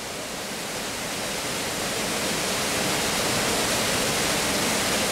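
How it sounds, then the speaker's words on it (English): Water pouring through a flood-carved cave beneath a rock ledge at Aysgarth Falls in the Yorkshire Dales, a steady, dense, loud roar close by with no pauses or voices. "the water, obviously when it's flooding, has carved like a cave underneath, and there's water coming through it"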